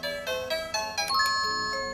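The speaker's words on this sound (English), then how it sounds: "This is one of the bell sounds." A SIMBR wired video doorbell monitor plays its chime ringtone: a bright, melodic run of ringing electronic tones, several notes in quick succession that blend into a sustained ring, loud and close with no voices.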